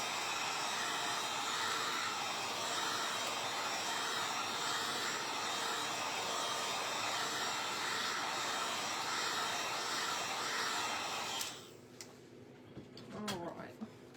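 A hair dryer blows on a handmade craft manger scene, giving a steady loud whooshing hum for about eleven seconds before it cuts off, followed by a few soft handling clicks.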